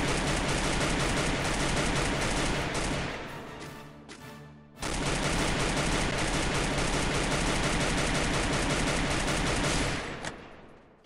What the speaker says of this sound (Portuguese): Vamos ver se eu consigo dar uns tiros nela ou matar ela